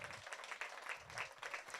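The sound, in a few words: church congregation applauding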